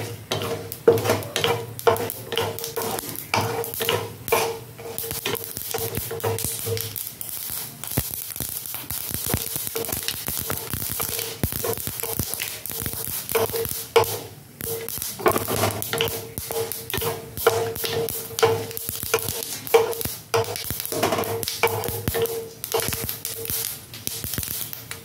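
White and black mustard seeds crackle and pop in hot oil for a South Indian curd curry, with a constant dense sizzle, rapid spitting and a spoon scraping the pan as it stirs.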